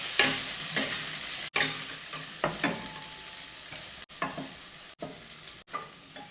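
Pointed gourd frying in a pan for a prawn curry: a steady sizzle, broken by repeated sharp scrapes and knocks of a spatula stirring the pan at a close distance.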